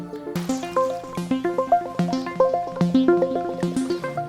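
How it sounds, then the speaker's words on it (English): Synthesized droplet-like plinks repeat in a steady pattern, bright bubbly tones dripping one after another within a calm electronic melody. "one of the stock synth sounds had water sound effects in it"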